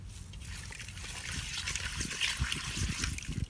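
Cut quail pieces are washed by hand in water with rock salt and turmeric in a village kitchen, giving continuous close sloshing and trickling that grows busier toward the end, with no speech.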